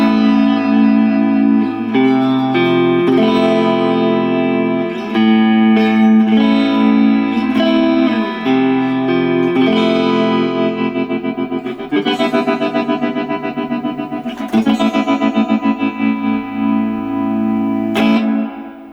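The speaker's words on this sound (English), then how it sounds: "all of the sounds that you heard came from the guitar itself with the built-in speaker." An Enya Inspire Pro smart guitar plays through its built-in speaker with onboard effects, giving sustained distorted, chorus-laden chords and notes with some echo, loud and continuous and heard alone without any speech.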